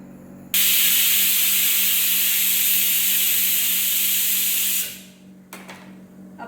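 Pressure cooker whistle blasting steam on a kitchen stove, a loud steady hiss starting abruptly and holding for about four seconds before tapering off into quieter kitchen noise.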